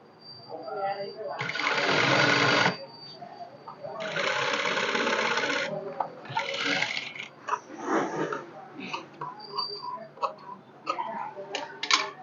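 A sewing machine stitches the sleeve of a netted blouse in three loud bursts of rapid whirring, each a second or two long, then quieter handling and a voice talking between and after the runs.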